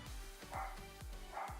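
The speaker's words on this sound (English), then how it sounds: "I'm so sorry for the barking." A dog barks indoors at home, several quick repeated barks in a steady rhythm, moderately close but not very loud.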